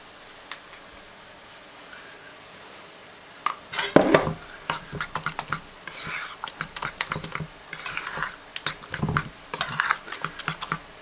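A pepper mill grinds pepper over a dish in a home kitchen. Crisp, rapid clicking comes in irregular bursts after a quiet start, with a few clinks of kitchen utensils.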